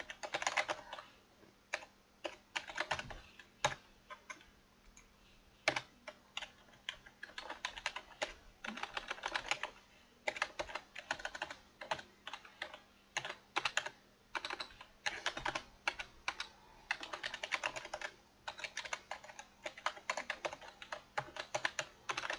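Steady typing on a computer keyboard while writing a simple hello world program for an ESP8266-01, with rapid close key clicks in irregular bursts and short pauses across the whole stretch, no talk.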